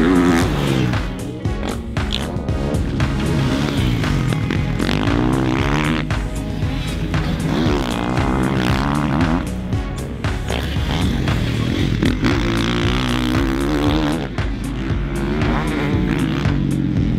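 A 2021 Kawasaki KX450 motocross bike ridden hard, its engine loud and close, revving up and down through gear changes with a continuous raspy roar and no talk.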